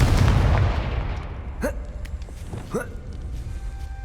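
A Confringo fire spell cast in the video game Hogwarts Legacy, opening with a loud rumbling blast that decays over about a second, followed by two sharp whooshing, rising magical zaps.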